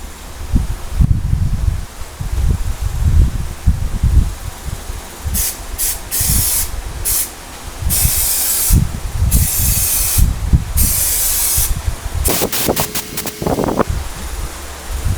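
Spray adhesive is shot from a gun with an adjustable fan pattern onto door panels in a garage. It comes as a series of loud, close hissing bursts of varied length, with low handling thumps and rustles before them.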